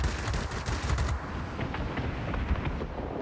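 Warplane machine guns rattle in rapid continuous bursts during a dogfight in World of Warplanes, loud and dense throughout.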